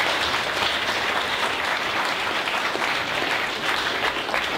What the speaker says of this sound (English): Can we give everyone a round of applause again?